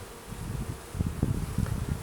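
A large mass of honey bees buzzing at a hive while new queens are introduced, a dense low drone that swells in uneven pulses, close and steady with no voices.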